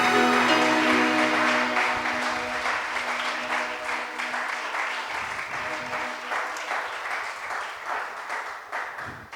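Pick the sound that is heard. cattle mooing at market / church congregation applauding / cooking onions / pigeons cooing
church congregation applauding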